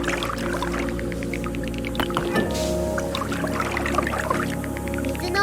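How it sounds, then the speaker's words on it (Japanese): Flowing water from a watery biome with bridges and lily pads in the video game Terra Nil, a steady pouring and gurgling wash with a soft splash partway through, layered with gentle ambient game tones. "水の音が気持ちええな。"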